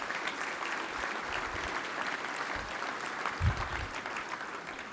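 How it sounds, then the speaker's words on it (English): A dinner crowd at a wireless industry hall of fame awards event gives sponsors a steady round of applause, fairly soft and continuous, with a brief low thump partway through. "we'd really like to give them another round of applause."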